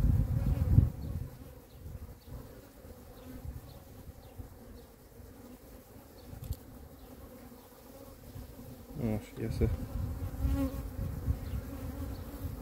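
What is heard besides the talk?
honeybees buzzing around an open hive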